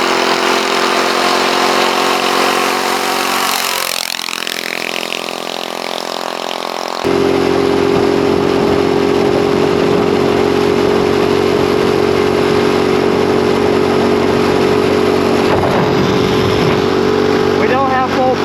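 A go-kart engine revived after sitting, running below full power, rises in pitch as the kart speeds past, with a steady loud drone and a sudden jump as it nears, under outdoor background noise.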